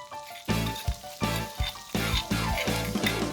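Spices frying in an onion mixture in a pan, stirred with repeated scrapes and soft plops over a steady sizzle, loud and close with no talk.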